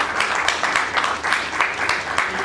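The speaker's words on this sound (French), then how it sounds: "Applaudissez pour les témoins." Guests at a civil wedding ceremony applaud the witnesses, a steady, dense wash of many hands clapping, fairly loud and continuous with pulsing swells throughout.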